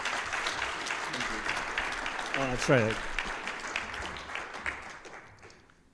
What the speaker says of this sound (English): please have a big applause